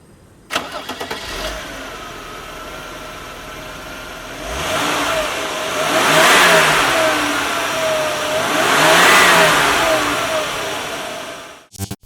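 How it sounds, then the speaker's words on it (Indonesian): A 1995 Mercedes-Benz G300 W463 cranks and starts, settles into a close, steady idle, then revs twice in long swelling pushes before dropping back and shutting off; no one speaks. "Kita nyalain mesinnya."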